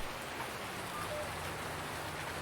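Steady rain falls in the farming video game Farming Simulator 19, a dense, even hiss of drops on surfaces that holds constant throughout with no voices.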